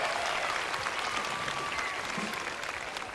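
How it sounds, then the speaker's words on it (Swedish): Outdoor crowd at a Skansen sing-along concert applauding in the rain, a steady wash of clapping and cheering that continues evenly throughout. "ge er själva en applåd"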